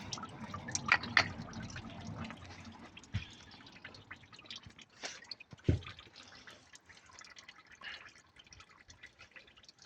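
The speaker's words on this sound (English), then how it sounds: "I'll just let that fully drain out." Coolant draining out of a Ford Transit MK7 2.4 TDCi engine, irregular drips and trickles splashing into a container, close by, with a few louder clanks early on.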